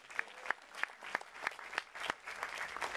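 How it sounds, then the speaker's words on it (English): Audience members clap at a 25th anniversary annual meeting in a hall, a sparse, fairly quiet run of roughly ten distinct claps in an uneven rhythm, a few hands at most. "I think we should all give ourselves a round of applause."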